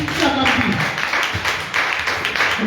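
Church congregation applauding and calling out in acclamation, a dense, steady wash of clapping mixed with raised voices that fills the room throughout.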